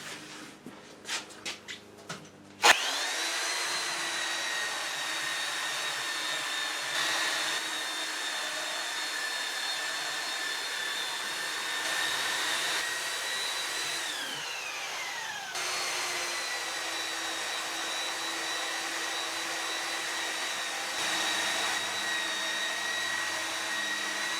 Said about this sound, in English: So you have to keep the belt sander moving.